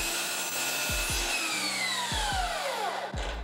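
A miter saw runs at full speed and cuts a 45 degree angle through wood, a steady whine that winds down as the blade slows, with several sharp knocks underneath.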